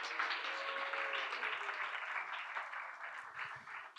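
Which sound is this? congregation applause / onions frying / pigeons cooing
congregation applause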